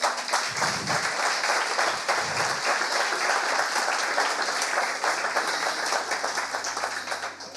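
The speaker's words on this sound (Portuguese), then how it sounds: "Aplaude ao Senhor." A church congregation bursts into sustained applause, steady and dense clapping from many hands filling the room for several seconds without talk.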